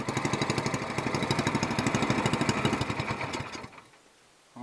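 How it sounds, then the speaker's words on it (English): A small longtail boat motor fitted with an SPS exhaust header runs with a rapid, loud, punchy putter, steady for a few seconds before the revs drop away and it quiets. "that is a snappy, fiery little motor there, man"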